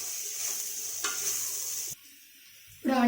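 Onions with cloves and cinnamon cooking in a pan for a spicy country-chicken pepper curry, a close steady sizzle with a brief stir, a quiet gap, then a louder burst of frying at the end.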